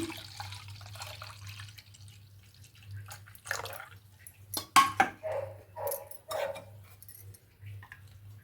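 Moong dal panaka, a sweet drink for Sri Rama Navami, is poured into a glass. Several short, soft liquid splashes and trickles come through a steady low hum, with quiet gaps between them.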